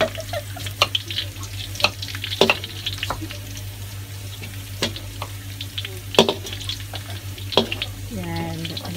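Garlic and onion sautéing in hot cooking oil over low heat for a Filipino crab and squash dish, with a steady sizzle and scattered crackles and clinks of stirring, and a voice talking over it.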